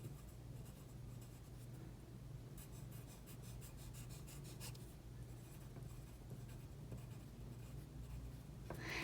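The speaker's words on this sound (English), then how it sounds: "we could take a pencil or a pen and we could draw out a design" Pencil or pen scratching zigzag lines and dots across paper for an oil pastel design, a steady close, quiet scribbling rub over a low background hum, with no talking.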